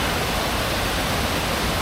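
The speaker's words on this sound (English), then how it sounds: "the river flowing nicely down it" A river rushing down a mossy, rocky ravine at Dolgoch Falls in North Wales, a steady, full hiss of flowing water with no other sounds.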